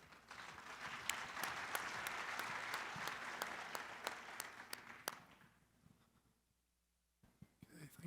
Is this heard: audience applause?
yes